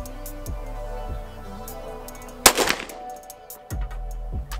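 Handgun shots at an outdoor shooting session, a sharp close crack near the middle and fainter reports before and after, with ringing and background noise, no talk.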